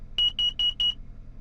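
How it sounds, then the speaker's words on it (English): Four sharp, high electronic beeps in quick even succession from a nearby carbon monoxide detector in a Mooney M20J light aircraft before flight, followed by quiet cabin hum. "No, that's a carbon monoxide detector."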